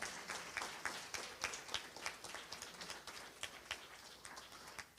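A crowd applauds the other Mandela Washington Fellows at a panel discussion in Iowa City, steady scattered clapping of moderate loudness lasting throughout without speech.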